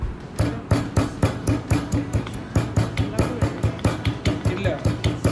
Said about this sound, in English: Now take a mortar and pestle and pound your garlic.